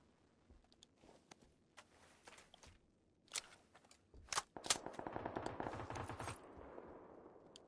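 Faint footsteps and scattered gunshots in PUBG build into a louder burst of rapid automatic fire near the end, with distant single shots between.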